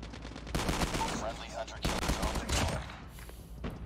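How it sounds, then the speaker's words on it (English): Rapid bursts of gunfire from a burst shotgun in Call of Duty Mobile, two or three loud clustered volleys separated by short gaps in a busy multiplayer firefight. "You guys see my super burst shotgun build?"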